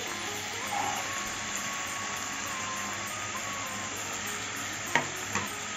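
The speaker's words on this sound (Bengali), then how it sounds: "গাজর আর আলুটাকে ভেজে নিচ্ছি" Carrots and potatoes fry with curry leaves in a pan for poha pulao, a continuous close sizzle with a couple of sharp utensil scrapes near the end.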